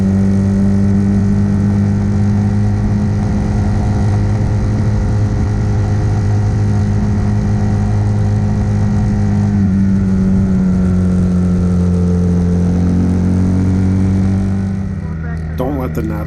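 An RPS Hawk DLX 250 dual-sport motorcycle on knobby tires cruises a town road, its steady mid-pitched engine drone holding near and loud before a shift lowers the tone and it fades slightly near the end.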